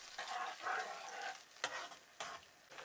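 Onion and General Tso sauce are stirred in a hot pan, giving a soft sizzle with scraping stirs at an irregular rhythm, fairly quiet and close.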